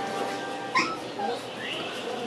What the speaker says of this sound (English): Maltese Yorkie.